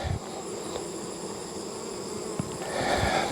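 A steady, dense insect buzz fills the whole stretch, a continuous drone of many bees around a hive close by with no voices.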